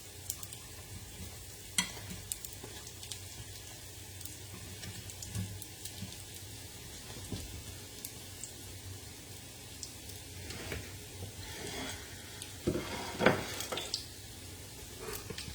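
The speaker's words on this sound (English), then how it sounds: "I'm going to leave them to fry for about a minute and a half on that side" Fritters frying in a pan, a quiet steady sizzle with soft crackles and a few sharper pops and scrapes near the end, no talking.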